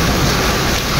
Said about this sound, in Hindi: बारिश जो होती है ना बहुत तेज़ हो गई है भाई।